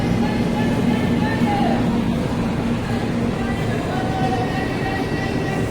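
Steady, loud low rumble of the moving Netravathi Express heard from on board, with faint voices mixed in beneath it.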